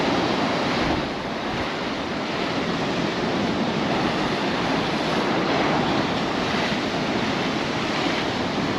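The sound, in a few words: big rough sea waves on the coast at Paguera, Mallorca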